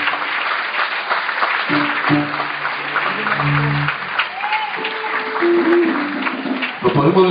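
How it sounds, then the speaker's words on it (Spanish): Church congregation clapping loudly for the young men after a prayer, dense steady applause with music tones and some voices mixed in throughout. "Denle un aplauso fuerte a todos los muchachos."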